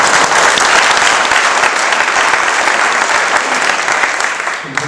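Audience applause at a County Louth 1916 medal ceremony, a loud, full wash of many hands clapping together, steady throughout before tapering off at the very end.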